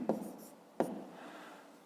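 Pen writing a digit on paper: two brief scratchy strokes, close and quiet, separated by a short pause, with faint room tone between and no talking.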